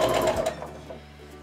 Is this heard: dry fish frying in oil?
no